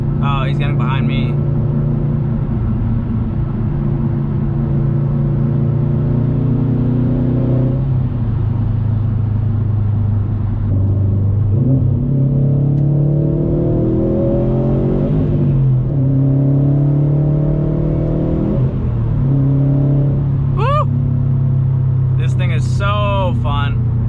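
A 2020 Subaru WRX STI drives in road traffic, its engine a loud, steady rumble that climbs in pitch through several revving pulls, with a few brief whistling sounds near the end.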